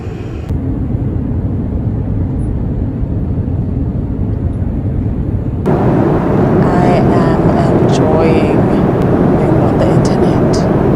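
Airplane cabin noise on a long-haul flight of about nine hours, a loud, steady broadband engine and air rush throughout, growing brighter and busier partway through, with a voice speaking over it.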